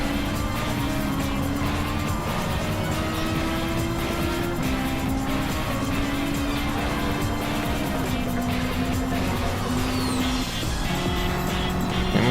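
Toyota Trueno AE86 race cars in a video game race, engines droning loud and continuous with shifting pitch as the cars run close together, no pauses, no voices.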